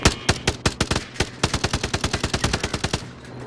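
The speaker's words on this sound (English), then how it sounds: "That dude's still sniping to the east there" Rapid, evenly spaced gunshots from Call of Duty: Modern Warfare, around twenty sharp loud cracks in a quick steady rhythm with no talking.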